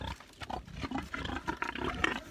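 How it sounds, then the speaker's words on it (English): Sows grunt in a homestead pen, several close, repeated low grunts and snorts overlapping throughout. "Now let's talk about porcine, or pigs. And here I am, I'm coming into my sow pen"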